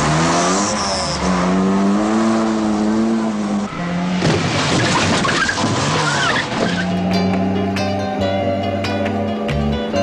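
A car tears away with squealing, skidding tires and a hard-revving engine, loud and close, under music with singing throughout.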